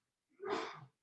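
A single short, faint sneeze from a person in a lecture setting, a breathy burst lasting about half a second and heard alone without talk.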